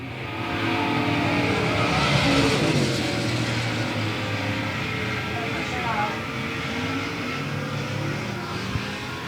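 Stock race car engines roar at a short-track speedway as the lead car races toward the start-finish line on the final lap, a loud, sustained drone with shifting pitch under continuous crowd and announcer noise.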